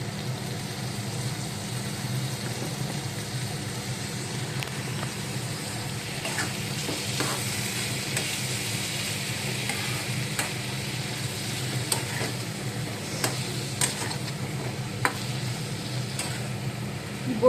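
Garlic and ginger paste sautéing in a pan, a steady low sizzle with scattered light clicks and scrapes from stirring throughout.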